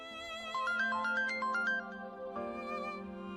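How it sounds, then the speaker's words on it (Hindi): A phone rings with a melodic electronic ringtone, a quick repeating tune of bright tones, clear and close, as the mother-in-law calls, with no voices over it. "मेरी सास का फोन आ रहा है।"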